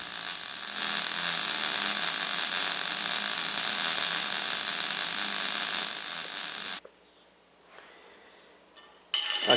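MIG welding on a vertical-up root pass, with a steady, loud crackling hiss for about seven seconds that then cuts off abruptly, followed by faint handling noises and a brief burst of hiss near the end.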